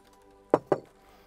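Hazelnuts, pumpkin seeds and sunflower seeds dropping into a pan, two quick hard clattering hits in close succession, close by against a quiet kitchen background.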